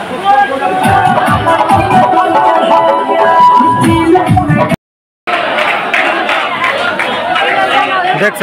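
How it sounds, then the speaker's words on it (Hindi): A large crowd chatters loudly at Garib Sthan temple in Muzaffarpur, a dense continuous babble of many voices close by, broken once by a brief total dropout before the hubbub resumes. "जो कि काफी ज्यादा अभी भीड़ लगा हुआ है।"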